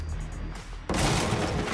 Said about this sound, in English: Barricades can also be destroyed by gunfire.